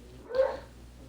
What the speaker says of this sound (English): I apologize for the dog barking in the back room